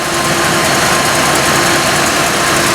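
A 1984 Cadillac Eldorado Biarritz engine idling shortly after a cold start, a steady, even drone with a faint hum on top, close and loud with no pauses.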